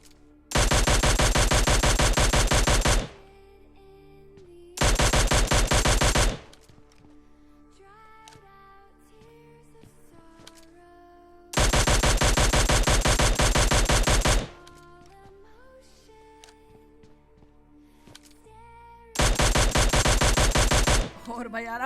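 Gunfire in a one-versus-three fight in PUBG Lite: four long, loud bursts of rapid automatic fire, separated by stretches of quieter game sounds.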